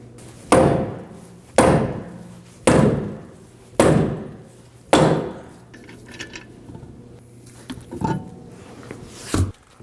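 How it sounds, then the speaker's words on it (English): Five heavy, evenly spaced thuds of a dead blow hammer striking the back side of a 2009-2014 Ford F-150 rear wheel, then softer clanks and scrapes, and two lighter knocks near the end. "I'm going to use a dead blow hammer and hit on the back side of the wheel"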